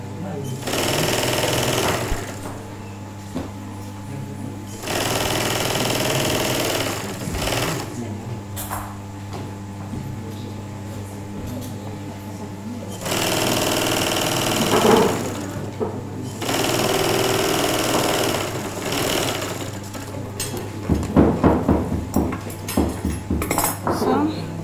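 Industrial sewing machine stitching hair-on leather in a leather workshop, running in several long, loud bursts of steady whirring with short pauses between, voices talking over it and clattering handling noises near the end.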